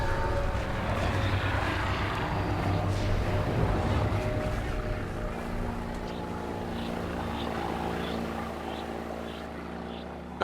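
A propeller aircraft's engine drones steadily overhead in a remote river wilderness, a continuous loud hum with harmonic tones that holds for the whole stretch and eases slightly toward the end.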